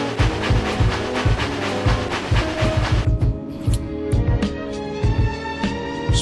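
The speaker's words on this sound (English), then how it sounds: "Spirit Train quickly slows down" Train slowing under braking, heavy rhythmic clanking and rumbling wheel beats with a bright hiss of brakes that cuts off partway, leaving slower metallic knocks as it decelerates, loud and close.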